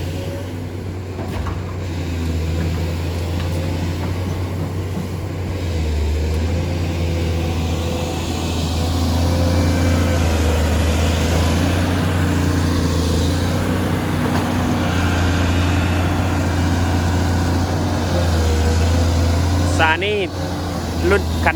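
A SANY SY215C excavator's six-cylinder 152-horsepower engine idles steadily with a constant low drone throughout, close by, while a voice speaks over it.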